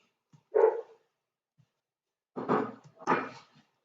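A dog barks close by, one sharp bark followed after a pause by two more in quick succession, against otherwise quiet surroundings.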